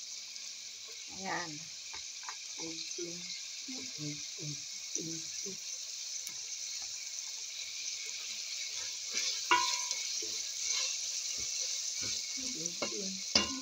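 String beans tossed into a pan sizzling with fish head adobo, a steady hiss of frying under scattered clatter and stirring, with a person speaking briefly nearby.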